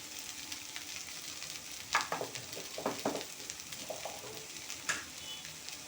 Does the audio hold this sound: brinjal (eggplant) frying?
yes